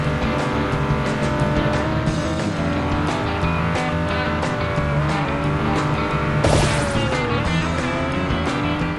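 Racing game engine whines and tire squeals from Beach Buggy Racing, a steady loud stream of buggy motors with a sharp skid burst near the end, no talk.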